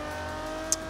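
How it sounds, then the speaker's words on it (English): A V12 car engine in Forza Horizon holds a steady, tonal whine for about a second, with a brief sharp click near the end and no one speaking. "So you can kind of hear on the engine side there, we've got a lovely V12"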